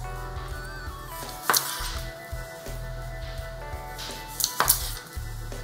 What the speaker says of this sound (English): I'm gonna just cut this up in 4 slices